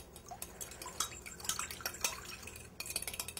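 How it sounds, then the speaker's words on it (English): A fork whisks egg, vanilla, canola oil and milk in a bowl, making quick, irregular clinks and wet splashing taps close by at a moderate level, with no talking. "kind of whisk that together, break up the egg"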